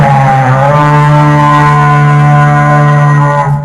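A loud, sustained low raid horn blast in Minecraft with a rich droning tone holds steady for several seconds before tapering off.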